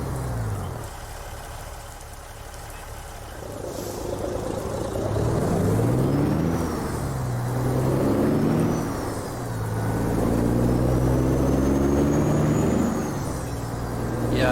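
A Peterbilt 389 hauling a long log trailer in American Truck Simulator, with a steady engine drone and gear changes rising and falling through the run, along with occasional air-brake hiss, with no talk.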